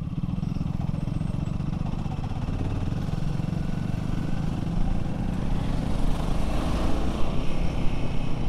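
Royal Enfield Himalayan motorcycle engine revving high on the Kasara ghat road, with a faint knocking at high RPM. A dense, continuous roar with rushing wind is heard up close and grows slightly louder toward the end.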